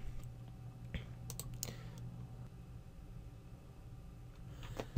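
Computer mouse clicks on a Windows 10 PC, a few faint, sharp isolated clicks spaced irregularly over a low steady hum, close by and quiet, with no talking.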